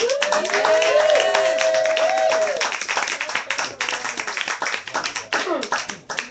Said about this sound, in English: Everybody give Dennis Perone a round of applause